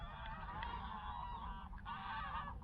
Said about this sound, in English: The geese just landed over there.